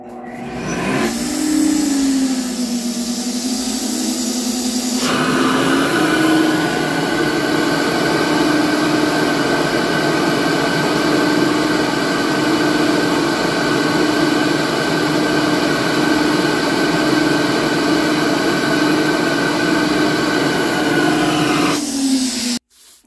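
A flow bench tests air flow through a ported Chrysler 318 TBI intake port at 550 lift, starting with a brief rise and then a loud, steady rushing roar with a constant hum for about eighteen seconds before cutting off abruptly.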